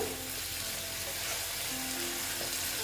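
Spice paste sizzling in hot oil for a Bengali tangra fish curry, a steady, fairly soft frying hiss with faint bubbling, unbroken throughout.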